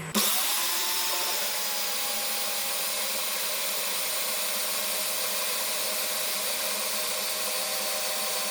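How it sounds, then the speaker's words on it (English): A power drill whirs continuously at a steady pitch, close and loud, starting abruptly and running without pause. "That's all drilling."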